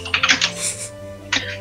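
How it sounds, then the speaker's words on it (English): Rapid typing on a computer keyboard: a burst of clicking keystrokes, a short pause, then a few more taps, close and fairly loud, with no talk. "I was still typing!"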